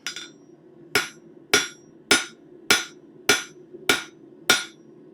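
A blacksmith's hammer drawing out hot steel on an anvil rings in eight sharp, evenly spaced strikes, close and loud, over a steady low background hum with no talk.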